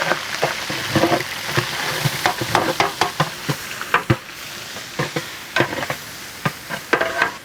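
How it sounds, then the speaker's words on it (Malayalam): Crushed ginger and garlic fry in a pan, a steady sizzle broken by frequent crackling pops and stirring clatter, close and fairly loud with no talking. "ഇഞ്ചി വെളുത്തുള്ളി ചെറുതായിട്ടൊന്ന് മൂത്ത് വരണം."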